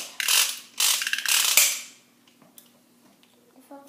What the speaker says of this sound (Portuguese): Esse lançador daqui faz muito barulho. Tem que dar até um estalo.